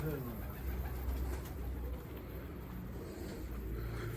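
A tumbler pigeon coos softly in low repeated calls, faint against a steady background hum and rustle.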